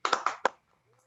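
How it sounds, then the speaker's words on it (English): Brief scattered applause at a city council meeting: a few sharp hand claps in quick succession, fading out within half a second into near silence. "Let's give her a round of applause."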